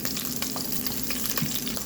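Garlic and ginger fry in hot oil in a home kitchen, a close, steady sizzle with light stirring clatter.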